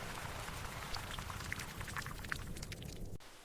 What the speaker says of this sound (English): Then, the first drop falls.